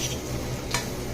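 Grated coconut is stirred slowly in a hot kadai for chickpea sundal, a soft steady sizzle with one brief scrape of the spoon against the pan.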